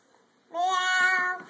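A voice imitates a cat, giving one drawn-out, rising meow that is fairly loud and close.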